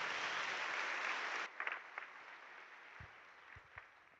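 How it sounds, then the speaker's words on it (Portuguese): A church congregation at a novena homily gives a round of applause that sounds dense and even for about a second and a half, then cuts off abruptly, leaving a quiet room with a few scattered soft knocks. "Vamos dar uma salva de palmas"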